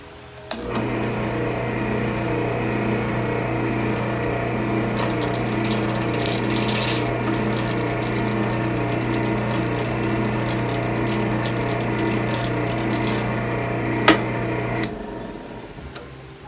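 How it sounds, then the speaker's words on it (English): A power drill drilling metal while making a fishtail exhaust, a steady mechanical whir with a constant low hum running for about fourteen seconds without pause, then cutting off, close and fairly loud. "So when you're drilling metal, always use a center punch to get your drill bit started"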